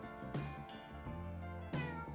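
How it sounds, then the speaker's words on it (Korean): A ginger cat meows several times in a row, close and fairly clear, each call a drawn-out tonal cry, resting in a village on the Camino de Santiago at Castrojeriz. "한가로이 휴식을 취하고 있던 치즈 고양이가 여행객을 반깁니다."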